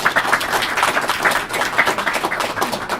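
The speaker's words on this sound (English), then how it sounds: "Please give her a round of applause." Audience members at an EPICS IEEE event give a round of applause for an executive director, loud close clapping throughout.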